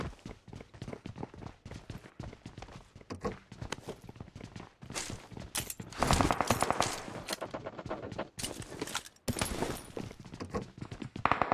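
Gunfire in a battle royale video game during a late-zone fight in ruins, with AWM sniper shots: bursts of shots and action noise run throughout, louder and denser in the second half, with movement sounds between volleys.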